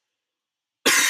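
A single sharp cough bursts out suddenly after silence, close and loud, with a rough, breathy burst.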